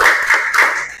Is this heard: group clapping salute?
yes